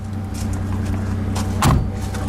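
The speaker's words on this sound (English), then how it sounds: "I love that mechanical clunk." A heavy mechanical clunk from the folding roof of a Mercedes-Maybach G 650 Landaulet rings out once over a steady idling engine hum.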